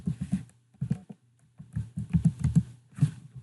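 Keys clatter on a computer keyboard as a command is typed, close and crisp, in quick irregular bursts of taps separated by short pauses, with no voice over them.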